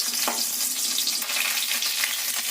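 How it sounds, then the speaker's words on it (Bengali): Onions fry in a small amount of oil while being stirred, giving a steady close sizzle with occasional scraping strokes throughout. "অল্প একটু পেঁয়াজ দিয়ে লাড়াচাড়া করছি।"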